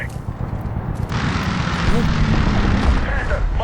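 Aircraft strike explosions in the video game Medal of Honor 2010, a heavy low rumbling blast that swells loudly and rolls on, with a player talking over it.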